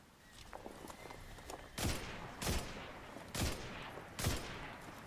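A scout rifle in Destiny 2 fires four sharp, evenly spaced single shots, each with a short booming tail, after a few faint clicks and quieter pops at the start.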